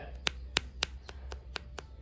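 Several light, sharp taps on a small glass lens, close up, in an uneven rhythm with short pauses between them; the tone is denser than acrylic.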